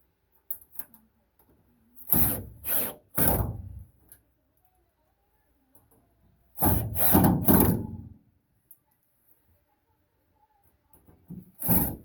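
Fuel pump fasteners are tightened on a 1933 Plymouth coupe, heard as close bursts of ratcheting or cranking in two clusters with quiet gaps between them.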